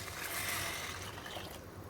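Water pours steadily into a pot of fried masala curry, a close, continuous splashing gush that fades out near the end.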